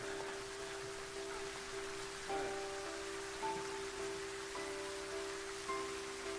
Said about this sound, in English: This is a very nice rain scene too, I gotta say.